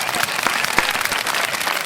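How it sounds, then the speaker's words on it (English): A dense burst of audience applause celebrating new channel subscribers: many hands clapping steadily and fairly loudly for about two seconds, with no voices on top. "Give them a round of applause."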